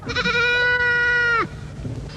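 A single goat bleats loudly and close, one long wavering cry held for over a second before cutting off, followed by quiet low rumble, with no talking.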